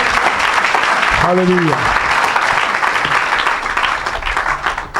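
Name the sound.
church congregation applauding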